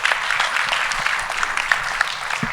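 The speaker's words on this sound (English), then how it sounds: "Everybody give a round of applause for our session." A conference audience applauds at the close of a forum session, with steady, sustained clapping across the whole stretch from a room full of people.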